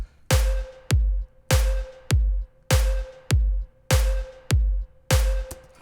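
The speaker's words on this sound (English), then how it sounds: "I used a tonal effect mixed with a snare and a clap" Electronic snare layered with a clap and a tonal effect hits on the beat in a production, six loud, evenly spaced strikes, each answered by a short sharp accent, with a steady tonal ring underneath.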